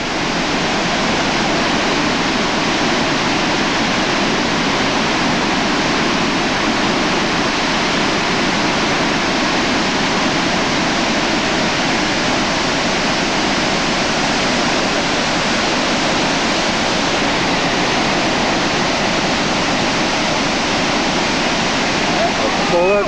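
Tveitafossen waterfall in Norway roars as a loud, steady broadband rush from a viewing platform above the falls, unbroken for the whole stretch with no other sounds rising above it.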